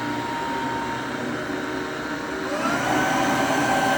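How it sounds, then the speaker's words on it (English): A Hoover OnePwr Smart Wash cordless upright carpet cleaner runs in smartwash mode with a steady, close motor whir and airy hum, shifting to a slightly higher, louder pitch partway through as it reclines, with no talking over it. "And it's in the smartwash mode. Recline. And this is as loud as it gets."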